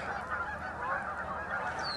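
Geese honk in a busy, overlapping chorus, several birds calling at once at moderate distance outdoors, with a steady stream of calls and no speech.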